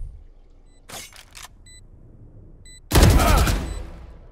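Gunfire in the video game Valorant: a couple of faint clicks and a short burst, then a loud close volley of rapid shots that rings out briefly, with no talking.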